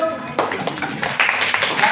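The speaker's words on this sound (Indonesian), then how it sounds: "Tepuk tangan dulu." A classroom of students claps together during an elementary math lesson on fractions, a burst of close, ragged hand claps starting after a brief pause and continuing with some talk mixed in.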